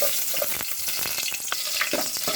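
Ginger sizzles in hot oil in a pan: a dense, close frying hiss peppered with rapid crackling pops throughout, with no voices.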